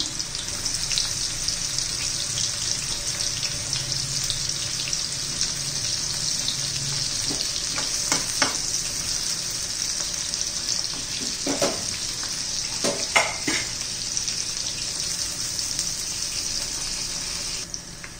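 Soybean chunks frying in hot oil make a steady, close sizzle throughout, with a few brief clinks and stirring knocks partway through; no voices.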